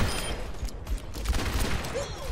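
Rapid gunfire from the video game Overwatch, bursts of shots and booms in quick succession, fairly close, with game effects and faint voices.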